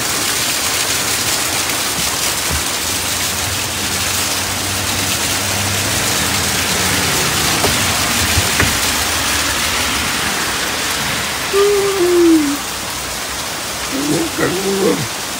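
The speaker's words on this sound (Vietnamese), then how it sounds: "Mưa thiệt rồi." Heavy rain pours onto a garden in a steady, loud hiss that never lets up, with a short bird call rising near the end.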